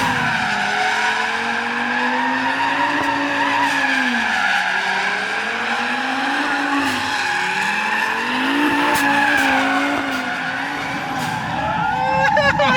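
A 500 HP Audi RS3 drifts with a loud, continuous tire squeal over a wavering, revving engine note that rises and falls for the whole stretch, heard close and intense.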